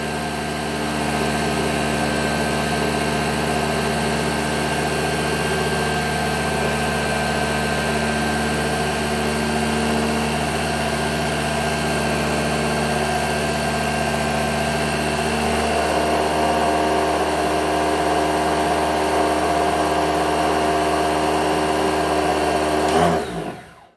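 A motor fitted to a homemade portable lathe runs steadily with a constant whirring hum and whine for over twenty seconds, then winds down abruptly at the end.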